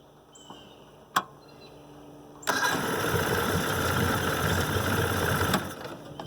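A 1969 Evinrude 55 horsepower outboard motor fires up on a light turn of the key after a click, then runs steadily and loudly at a fast idle for about three seconds before easing off, with no talking.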